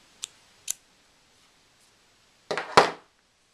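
Scissors snip sewing thread from a knot while a felt needlebook is being made. Two small, quiet clicks come first, then a pause, then a louder double snip near the end.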